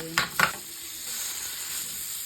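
Vegetables sizzle in butter in a pan, a steady frying hiss with two brief stirring scrapes at the start.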